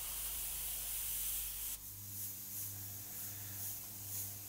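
An airbrush spraying white paint onto a jack-o'-lantern, a soft steady hiss that drops in level partway through and then continues faintly with slight pulsing, close by and quiet.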